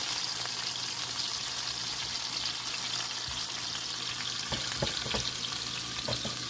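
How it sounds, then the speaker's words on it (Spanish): Asparagus sautéing in olive oil in a pan gives a steady, soft sizzle throughout, with several sharper stirring clicks and scrapes in the second half. "ahora voy a empezar a sofreír mis espárragos o romeritos"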